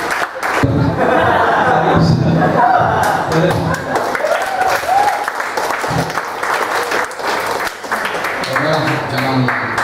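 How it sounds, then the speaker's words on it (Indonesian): A stand-up comedy audience applauds and cheers loudly, with dense clapping, shouts and some laughter, while voices talk over the crowd noise throughout. "Tepuk tangan dulu dong, stand up Kaskus."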